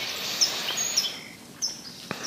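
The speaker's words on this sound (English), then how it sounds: "I hope you guys can hear the sounds of the birds." Birds singing outdoors during a yoga session, with a few short, bright chirps at scattered moments over a quiet background.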